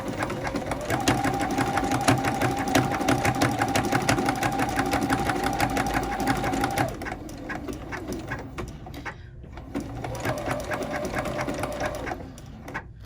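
A sewing machine runs steadily, stitching a quilt binding at a slow, even pace with a rapid rhythmic chatter, pausing briefly partway through and then starting up again.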